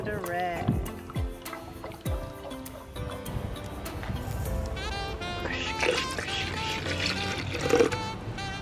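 Distilled water pours and splashes into a Toyota Land Cruiser cooling system in bursts, with trickling and gurgling, while a person talks intermittently over it.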